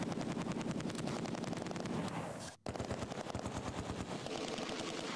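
An MG42 machine gun in the Close Combat 2 war game fires long, rapid rattling bursts with a regular rhythm. A brief gap comes midway before the firing resumes, loud and near, with no talk over it.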